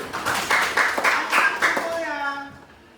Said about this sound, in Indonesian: Nah, kasih tepuk tangan dulu.